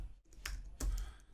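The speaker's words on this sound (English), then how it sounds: "So I'm going to start typing a Google search here." Keystrokes on a computer keyboard while entering a Google search, a short quiet burst of a few distinct clicks at close range with no talking.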